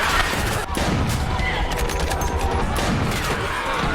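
Sustained gunfire from a battle scene in The Last of Us TV series, episode 5, a loud dense fusillade of overlapping shots and crashes that runs throughout with barely a pause.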